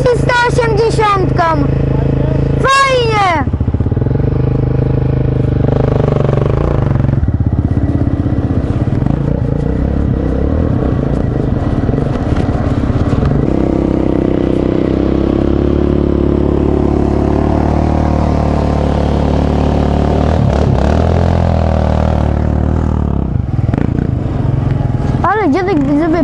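Kayo 180cc pit bike ridden by a seven-year-old, its engine revving up and down in loud, changing pitch sweeps with clattering, and a few sharp rising revs near the start and end, with voices at times.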